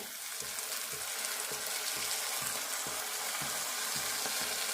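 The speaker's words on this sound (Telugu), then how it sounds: "ఇప్పుడు మనము ఇట్లా మిర్చి ఉల్లిపాయ అన్నీ ఇట్లా అల్లము ఇట్లా వేగినాక మనం కడి చేసుకున్న క్యాబేజీ ఇందులో వేసుకోవాలి" Chopped cabbage fries in a pan with green chillies, onion and ginger, a dense steady sizzle with evenly spaced stirring knocks roughly every half second.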